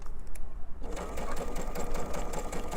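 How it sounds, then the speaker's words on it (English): Sewing machine stitching a seam around a curve on an elephant stuffed animal, a continuous fast mechanical whir with rapid needle clatter, close and loud, with no talking. "I'm going to sew right around that curve, come up here, take that pin out before I sew on it, back stitch a little and come out"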